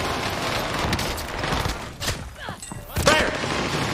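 PPSh submachine gun gunfire in Call of Duty: Warzone (Vanguard weapon) on Fortune's Keep, dense rapid bursts mixed with other game effects and thumps, fairly close and loud.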